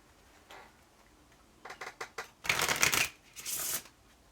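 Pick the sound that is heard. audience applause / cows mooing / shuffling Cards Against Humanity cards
shuffling Cards Against Humanity cards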